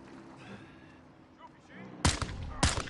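Grenade explosions and gunfire in the video game Modern Warfare 2, two sharp loud blasts in quick succession following a stretch of quieter ambient game noise.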